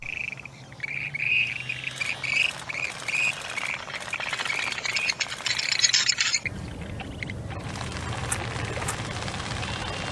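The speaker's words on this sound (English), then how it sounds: "This is the Western Grebe, and these birds have a super unique mating dance." Western Grebes call loudly, with repeated shrill squawking and chirping phrases over a noisy outdoor background. Partway through, the calls stop and a rougher, broadband rushing texture takes over.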